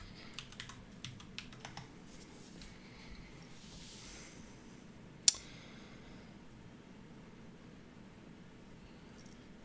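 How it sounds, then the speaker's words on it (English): Soft typing on a computer keyboard during a live stream: clusters of quick light keystrokes near the start, a sharper isolated click midway, then quiet room hiss. "let's try actually typing it in."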